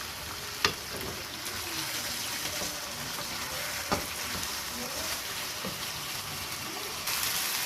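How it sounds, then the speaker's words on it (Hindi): Garlic and ginger frying in a pan for masala chicken, a steady broadband sizzle throughout with a couple of sharp clicks from stirring, close and fairly loud, no talk. "साथ इसको डाल के उस वक्त तक मैं इसको भूनूंगी जिस वक्त तक इसकी लहसुन और अदरक का कच्चापन खत्म नहीं हो जाता"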